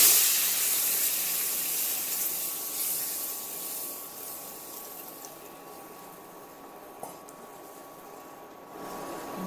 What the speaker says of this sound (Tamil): இந்த மாதிரி நல்லா வறுத்ததும் நம்ம அளந்து எடுத்து வச்சிருக்கிற தண்ணியை அது கூட சேர்த்துக்கணும்.